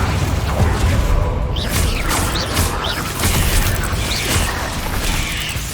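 Bombarda blasting spells in the Hogwarts Legacy video game, a loud dense rumble of explosive impacts, creaks and whooshing debris sustained throughout, with no clear gaps between bursts.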